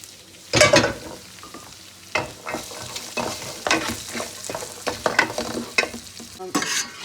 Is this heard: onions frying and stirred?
yes